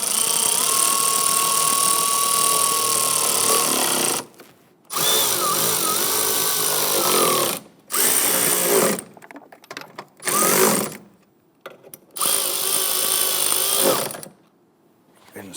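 Power tool tightening bolts on a 2011-2021 Jeep Grand Cherokee 3.6L V6 during camshaft position sensor replacement, running in several sustained whirring bursts separated by short pauses, close and loud, with no talking.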